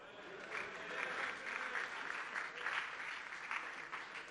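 A room full of people claps steadily for several seconds, moderately loud, with no voices over it, at a Year 12 graduation ceremony.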